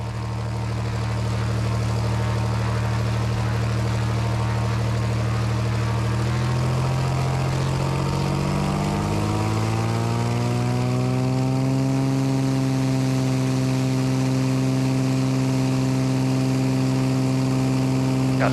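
A small single-engine propeller airplane powers up for takeoff on runway 21. Its steady, loud drone rises in pitch as the engine climbs from idle to full power. The sound is close and continuous, with no talk.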